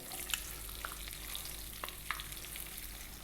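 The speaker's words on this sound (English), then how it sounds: "we're going to drop in our onion and our carrots, cut nice and small" Small-cut onion and carrots fry in a hot pan, a quiet, even sizzle with a few light spatters and utensil clicks, faint and without voices.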